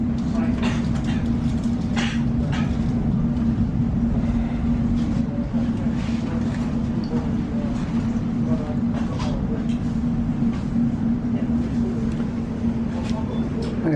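A London Underground Bakerloo Line train runs near Kensal Green, giving a steady rumbling roar with a sustained low hum throughout, fairly loud and continuous.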